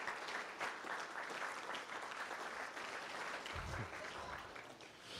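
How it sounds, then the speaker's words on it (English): An audience at a university hall of fame ceremony gives a sustained round of applause, a dense wash of clapping that holds steady from start to finish, heard somewhat faintly. "We can give her a round of applause"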